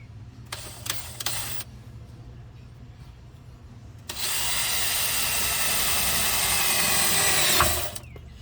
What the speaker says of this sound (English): I will use a drill